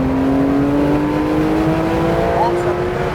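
A Porsche 911 GT3 RS at Sonoma accelerates at full throttle, its engine note climbing steadily in pitch as a loud continuous roar, with a voice talking over it.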